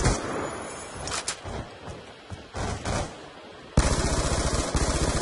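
Gunfire in Black Ops 2 gun game play: scattered single shots and short bursts, then a sharp loud volley of rapid repeated fire near the end, with no talk.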